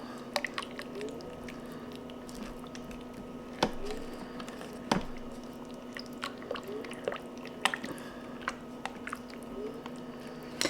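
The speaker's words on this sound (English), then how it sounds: "Stir that up really well." Creamy chicken pot pie pasta sauce being stirred with parsley in a crock pot, giving soft wet squishing and scraping sounds with a few sharper clicks of the spoon against the pot, steady and close.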